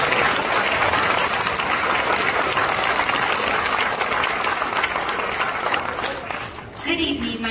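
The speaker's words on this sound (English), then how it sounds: "let's give a nice round of applause to our fabulous fourth graders and Miss Marino's dream band." Steady, enthusiastic audience applause for a fourth grade school band concert, many hands clapping continuously for several seconds with a few voices mixed in before it tapers off.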